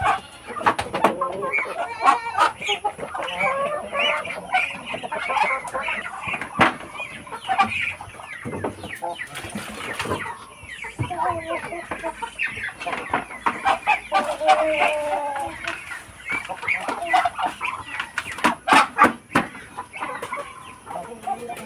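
Hens cluck busily and continuously close by, with roosters crowing several times amid the flock's chatter.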